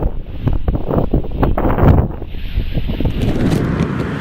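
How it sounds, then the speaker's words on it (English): Strong wind gusting outdoors at a British Championship hillclimb at Harewood, loud continuous buffeting and rumble against the microphone, with no talk. "Looks very windy out there at the moment."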